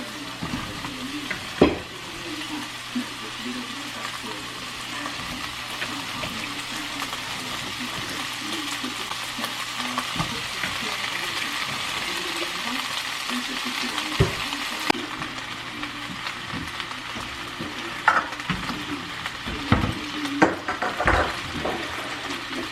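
Food sizzles steadily in a pan on a home stove in New York while a utensil stirs and scrapes it in irregular bursts, with occasional sharper clanks, continuous throughout with no talking.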